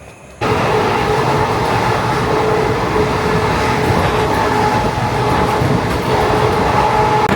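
Howrah Mokama Express train running between Pandua and Bardhaman, a loud continuous rumble and rattle of wheels on track heard from onboard, steady from start to finish.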